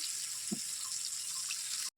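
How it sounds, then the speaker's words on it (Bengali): Water is poured into a cooking pot of sautéed spice paste for a curry, giving a steady, fairly loud hiss that runs unbroken for almost two seconds and then cuts off abruptly. "এবার আমি পানি দিয়ে দিচ্ছি"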